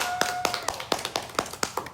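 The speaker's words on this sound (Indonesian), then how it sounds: "Ayo beri tepuk tangan ya semua." Hands clapping for two guests arriving on an Indonesian student podcast set: about nine separate sharp claps at a steady rhythm, close and fairly quiet, with a faint tone behind them.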